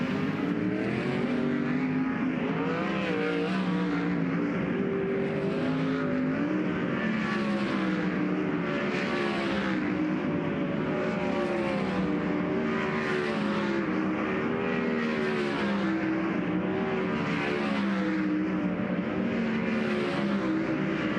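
A pack of race cars at speed during a dirt track hot lap session at Central Arizona Speedway, heard as a steady loud engine roar with repeated rising and falling pitch sweeps as the cars lap, and no talk.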